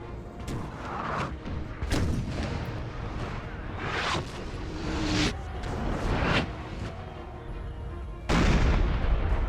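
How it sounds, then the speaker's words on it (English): A 10-pounder artillery cannon battery fires in the Napoleon: Total War video game, sending several heavy booms that roll over a steady din of battlefield noise, with one especially loud blast near the end. "Okay, 10-pounder team about to fire."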